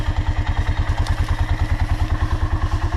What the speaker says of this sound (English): Sorry about the noise of the quad there